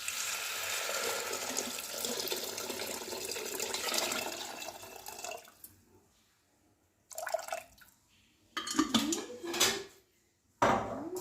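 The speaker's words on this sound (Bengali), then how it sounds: "এবারে দিয়ে দেব পরিমাণ মতো জল।" Water poured into a pressure cooker while cooking pulao, a loud steady splashing stream for several seconds, then silence and a few short bursts of pouring and clinking of a pot.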